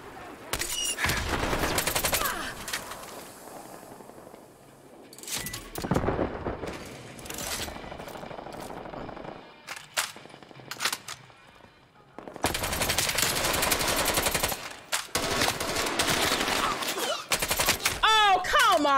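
Bursts of QBZ-83 rifle fire in the Black Ops Cold War video game, loud rapid automatic volleys with short pauses between them, under game sounds.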